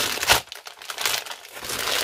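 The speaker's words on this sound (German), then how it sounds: "Ich greife mal in die Tüte rein." A hand rustles into a crinkly plastic snack bag, giving close, loud crackling bursts at the start and again through the middle and end, with no talk.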